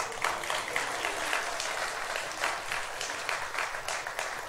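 A few people clap steadily together in a church, with brisk, close applause lasting several seconds and a faint voice underneath.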